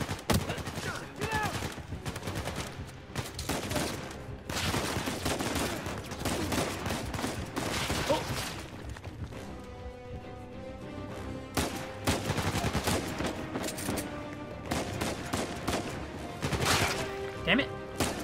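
Pistol and other gunfire in the video game Uncharted 4, a dense run of sharp shots and bursts over game music and effects, with a voice talking at times.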